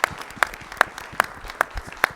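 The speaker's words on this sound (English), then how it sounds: "give Jim a round of applause" Attendees at a village board meeting in La Grange give a round of applause, heard as evenly spaced, distinct claps in a slow, regular rhythm over a quiet room background.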